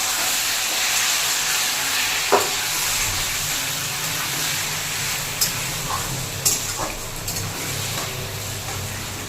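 Taro leaves dropped into a hot pan give off a steady, fairly loud hiss and sizzle that runs unbroken throughout, with a few brief clinks of utensils against the pan and no talking.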